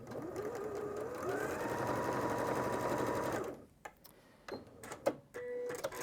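Sewing machine in a studio stitching quilt fabric pieces, a steady fast whirring run for about three and a half seconds, then stopping, followed by scattered handling clicks and a short final burst.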